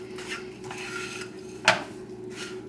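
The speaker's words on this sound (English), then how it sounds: "I like to use a non-stick skillet" A non-stick skillet handled on a stove with a moderate flame gives a few light clanks and scrapes and one sharper metallic clink over a steady low hum.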